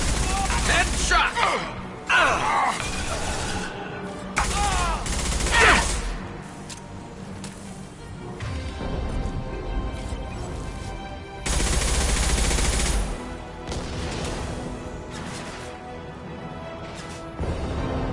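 Gunfire crackles through a firefight in Mass Effect 2, with rapid automatic bursts and heavy shots stacking up loud and close, broken by brief lulls, while game voices call out over the shooting.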